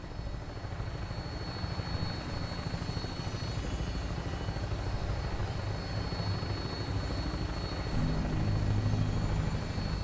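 Vertibird from Fallout 4 in flight, a steady loud rotor and engine drone that holds for the whole stretch and swells slightly toward the end, with no talking over it.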